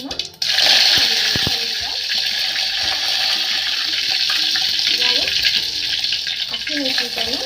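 Curry leaves hit hot oil with cumin for shavige uppittu tempering, giving a loud, continuous close-up sizzle and spatter that starts abruptly and holds steady throughout.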